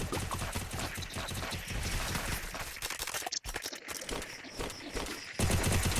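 Rapid bursts of gunfire from a shooting video game, dense and loud, repeating in quick volleys with brief gaps, no talking.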